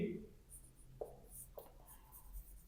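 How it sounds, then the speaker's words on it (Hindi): A marker writes on a board during a physics lesson, making faint scratchy strokes in short bursts, with soft background noise and a low voice. "तो ये मैं बात यहाँ पे लिख लेता हूं"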